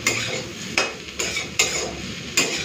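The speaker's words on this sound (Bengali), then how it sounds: "কলমি শাকটা ভেজে ফেলবো" Water spinach (kalmi greens) frying in a pan, with a steady sizzle broken by four regular scraping strokes of a spatula stirring the greens, close and fairly loud with no talking.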